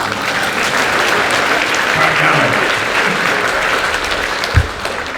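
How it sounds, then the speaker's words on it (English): A convention panel audience at San Diego Comic-Con applauding in a large hall, loud sustained clapping from many people with a brief thump near the end and faint voices mixed in. "You guys are a really clappy audience"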